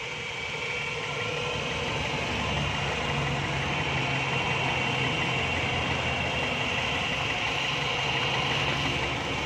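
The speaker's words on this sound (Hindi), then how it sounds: "ये देखें अभी इंजन के RPM बिल्कुल सेट हो गए हैं।" A car engine idles steadily on CNG after its RPM has been adjusted, a continuous, even mechanical hum and rumble heard close and alone with no talk, holding constant throughout.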